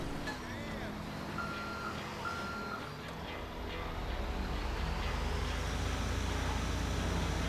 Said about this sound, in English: Sometimes it's a van, this time it's a whole damn truck.